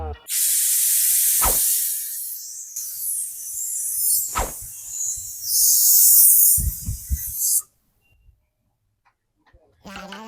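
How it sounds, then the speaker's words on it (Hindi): A pressure cooker whistle hisses loudly and steadily for several seconds, with brief clanks and knocks underneath, then cuts off abruptly to near silence. "ये कुकर की आवाज सुनने के बाद शायद आपको ऐसे लग सकता है कि मैं अपने घर में हूँ, लेकिन नहीं, मैं सुरेखा आंटी के ट्यूशन में"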